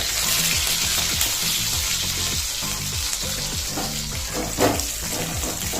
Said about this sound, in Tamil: நம்ம இப்போ நம்ம அந்த நட்ஸை வந்து இதில் ஃப்ரை பண்ணிக்கலாம்.